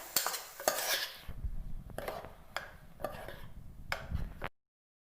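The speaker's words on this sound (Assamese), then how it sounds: "এতিয়া লৰাই থাকিব" Rice stirred with a spoon in a pressure cooker for jeera rice, scraping and clinking against the metal with a light sizzle underneath, in short close bursts before cutting to silence.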